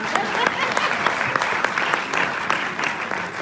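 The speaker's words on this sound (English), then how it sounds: "Now I'll clap for that." A crowd at a town hall meeting on fighting sexual and gender-based violence applauds steadily, with many hands clapping at once and a few voices mixed into the ongoing applause.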